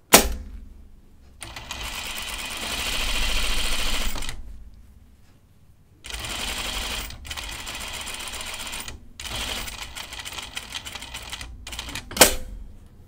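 Sewing machine stay stitching a dress, running in several close bursts of rapid mechanical chatter separated by short pauses, with a sharp clack near the end.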